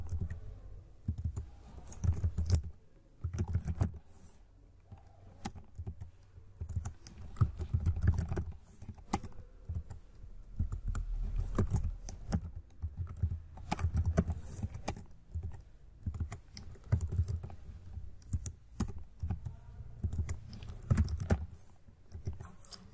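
Steady typing on a computer keyboard while writing code, a close, quiet patter of key clicks that comes in uneven bursts with brief pauses and runs throughout without speech.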